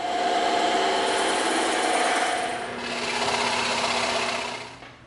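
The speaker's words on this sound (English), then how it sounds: "Now we're gonna go over to the bandsaw and the scroll saw and cut this out." A scroll saw cuts an EVA foam template with a continuous, fairly loud buzzing whine. The buzz dips briefly midway, resumes, then winds down at the end. No one speaks.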